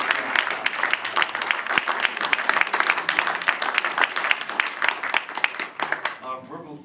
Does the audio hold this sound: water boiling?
no